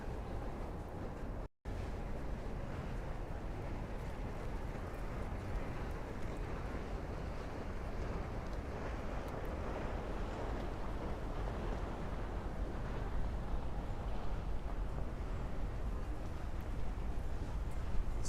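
Wind blows steadily along a riverside path in Manhattan, a broad, constant rumbling roar buffeting the microphone, with no speech.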